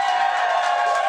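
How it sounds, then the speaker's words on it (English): A sold-out podcast arena audience of about 300 people gives a sustained round of applause and cheering, a dense, even roar of clapping held at steady loudness with no talking over it. "That was a big round of applause"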